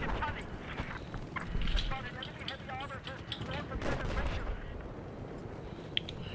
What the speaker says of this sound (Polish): Strzały. Nie wiem skąd.